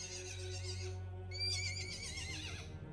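A horse whinnies loudly and close by, a long, quavering call that rises and falls over a steady low hum, with faint hoof clops in the background.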